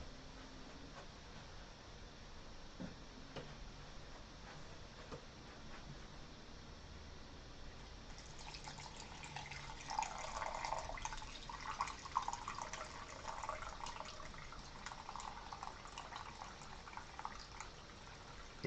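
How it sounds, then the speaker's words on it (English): Hot brewed coffee being poured, a faint trickling and splashing of liquid that starts about midway and continues softly to the end over a quiet background, with no talking. "that's me pouring some coffee"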